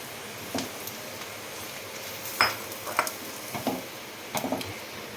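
Semolina frying in a pan with cashews and raisins for upma, a low continuous sizzle broken by a few sharp clicks and scrapes of a spoon against the pan.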